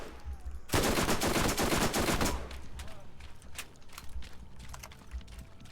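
Rapid SMG gunfire in Borderlands, a loud dense burst of shots at the start, then scattered shots and combat noise trailing off.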